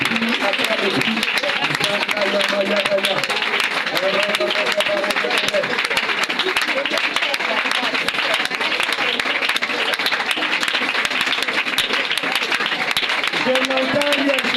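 A church congregation claps and cheers through a prayer session against satanic altars, with dense sustained applause and a voice leading the prayer throughout.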